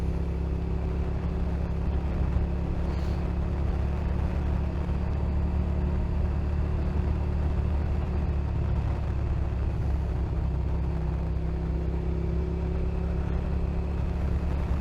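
A cruiser motorcycle being ridden produces a steady, loud engine drone with road and wind rumble, continuous and unbroken with no voices.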